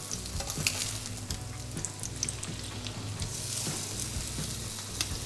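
Cordon bleu fries in oil over fairly high heat with a dense, continuous sizzle and crackle, close and steady throughout, punctuated by small pops and spatters, with no voices.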